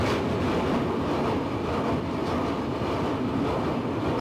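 The Dibrugarh–New Delhi Rajdhani Express speeding across the Brahmaputra bridge, a loud continuous rumbling roar of wheels and wind heard from the carriage doorway, cutting off abruptly at the end.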